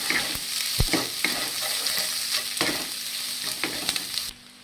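Boiled egg pieces are stirred in a hot pan for egg bharta. A spoon scrapes and taps repeatedly over a steady close sizzle, which cuts off abruptly at the end, with no talking.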